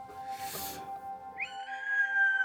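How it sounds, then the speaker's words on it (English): A breathy burst of noise fades out, followed by a thin, high whistling tone that holds steady for about a second. "And you hear a strange kind of whistling noise."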